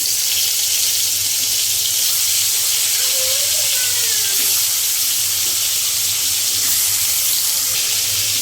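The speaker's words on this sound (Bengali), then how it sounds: "এবারে মাছটা ভালোভাবে ভেজে নেব" Rohu fish fries in hot oil in a wok with a steady, loud broadband sizzle and hiss that runs unbroken throughout, plus a faint squeal partway through and no speech.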